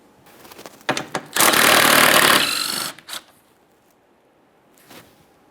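A power tool fitted with a 13mm socket runs bolts out of a radiator support panel on a 2013-2020 Ford Fusion 2.0L, giving short rattling bursts and then one sustained loud buzz of about a second and a half, followed by brief clicks and quiet.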